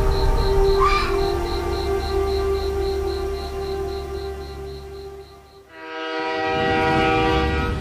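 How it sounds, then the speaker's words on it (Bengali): A train rumbles steadily with a drawn-out horn, then the sound shifts into a rising mechanical roar as it pulls into a station, loud and close. "সকাল 8:30 ট্রেন এসে থামল ধানেশপুর স্টেশনে।"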